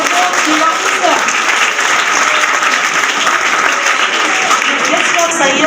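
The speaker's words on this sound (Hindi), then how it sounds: "जोरदार तालियों के साथ इनका इस्तकबाल कीजिए" Loud, steady applause from a school silver jubilee audience greeting the chief guest, dense clapping held at a constant level throughout without a break.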